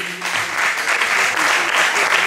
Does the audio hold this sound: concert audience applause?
yes